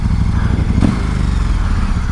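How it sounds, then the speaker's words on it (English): A 2017 KTM Super Duke 1290 R with its stock exhaust runs with a loud, throaty, pulsing engine note close by, briefly swelling in a short rev with no voices. "I forget how good the stock exhaust sounds."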